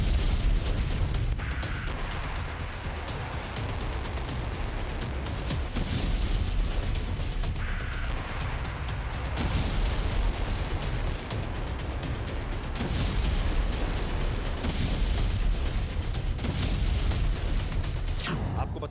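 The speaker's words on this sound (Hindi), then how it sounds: "16 मिसाइलों का टेस्ट करते हुए सीधे जंग की फाइनल वार्निंग" Iranian ballistic missile test launches on home soil, sixteen missiles, heard as a continuous roaring rumble with repeated sharp bursts and booms at intervals, moderately loud and steady throughout.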